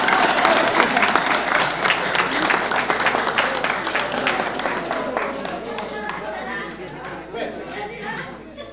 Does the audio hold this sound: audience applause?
yes